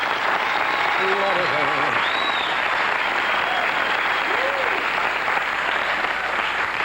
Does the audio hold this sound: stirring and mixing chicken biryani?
no